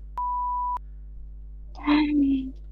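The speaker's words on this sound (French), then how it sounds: "je vais mettre un genre un, bip, tu sais, comme si c'était de la censure" A single clean censorship bleep, a steady pure tone lasting just over half a second, followed by a short burst of voice.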